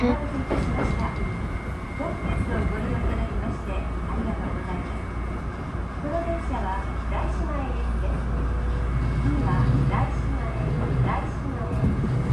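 A Tobu Daishi Line train rolls along single track at a steady pace with a continuous rumble and faint rhythmic clatter from the rails, heard from inside.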